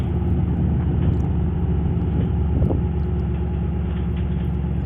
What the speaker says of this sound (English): Getting the Roush Mustang off the trailer here